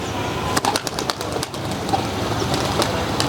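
Domestic pigeons on a rooftop loft give soft coos and scattered wing flaps and flutters over a constant rough background hum, with no talk heard.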